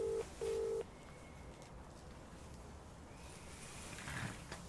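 Outgoing telephone call ringing tone, two short electronic tone bursts in quick succession at the start, followed by faint line hiss and quiet.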